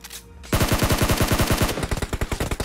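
Rapid automatic gunfire in the video game BGMI: a sustained, evenly spaced burst of close, loud shots that begins abruptly after a brief quiet moment and continues to the end.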